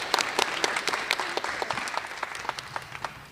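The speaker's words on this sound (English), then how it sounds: "Round of applause." Steady applause from an audience at a high school Black and Gold awards ceremony, moderately quiet and even, with crisp individual claps scattered through the crowd sound.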